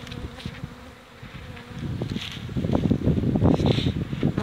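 Honeybees fly and buzz around a hive in early spring, a close, dense droning hum that starts faint and swells louder halfway through, with a few buzzes passing near the microphone.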